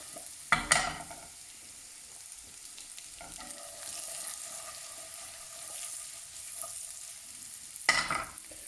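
Cherry tomatoes, including brown cherry tomatoes, sizzle softly in a pan alongside vegetables, with a quiet steady frying hiss and two sharper clatters of stirring near the start and end.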